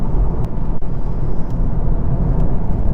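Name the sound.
VW Golf Mk8 GTI S driving, cornering on all-season tires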